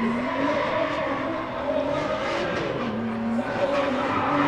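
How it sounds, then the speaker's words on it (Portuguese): A drift car at a Super Drift Brasil competition screeches with continuous, loud tire squeal over a revving engine, the wavering wail sustained through the whole stretch. "É agressivo, vem no drift pra fazer o show."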